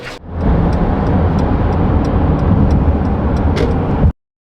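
A car drives on the road, a loud, close, steady engine and road roar with faint regular ticking, ending abruptly in silence.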